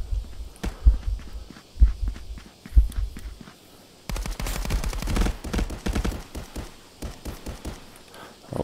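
Gunfire in the multiplayer shooter Contractors: a volley of close shots and bursts of rapid automatic fire in the first few seconds, then a denser stretch of crackling shots and impacts, with no talking.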